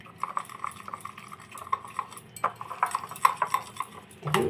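Gram flour being hand-whisked with water into a smooth batter for motichur laddu, a steady run of light clinking and tapping strokes against a bowl, close and fairly quiet, with no talk.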